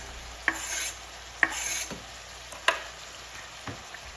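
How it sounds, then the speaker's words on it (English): Pork belly and minced garlic stir-frying in a pan for Korean kimchi pork: a quiet, close hiss of hot fat is punctuated by four or five distinct spatula clacks and short scrapes spread a second or so apart. "Once the pork begins to cook, add minced garlic for extra flavor."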